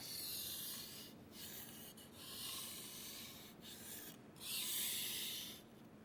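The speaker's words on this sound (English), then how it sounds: "The longer your strokes, the more efficient your sharpening." A chef's knife drawn by hand across a whetstone in long strokes, giving a steady rasping scrape with brief pauses between passes, close and fairly quiet with no talking.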